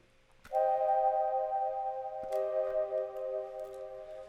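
Sustained synth chords laid down in an FL Studio beat, a held chord swelling in after a soft click and shifting to a second voicing midway, steady and fairly quiet with no talking.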